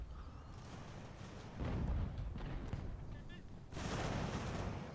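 Musket volleys and cannon blasts in Ultimate General: American Revolution, a steady roar of battle with heavy booming bursts around two and four seconds, mixed with game ambience and a voice talking over it.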